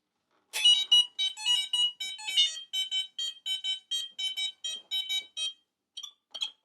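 A CGL Super Kong piezo sounder under test emits a rapid run of shrill electronic beeps, loud and close, then stops briefly before a few final chirps.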